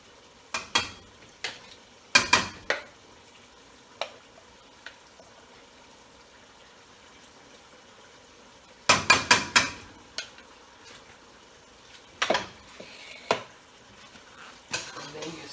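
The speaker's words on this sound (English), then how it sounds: "And then you stir it, mix it up." Mushroom and onion stirred in a pot, bursts of sharp metal scraping and clanking from a spoon against the pot, coming in irregular clusters between quiet gaps, close-up.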